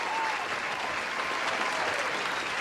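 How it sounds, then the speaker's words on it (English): Steady, dense round of canned applause played as a sound effect on a talk podcast, many hands clapping evenly and continuously at a moderate level with no pauses. "I'm hitting a round of applause because they're back"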